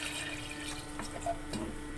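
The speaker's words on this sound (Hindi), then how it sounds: "अब हम इसके अंदर डाल देंगे पानी" Water is poured into a pressure cooker sitting on a lit gas stove, a short, soft, steady splashing trickle heard close up without any talk.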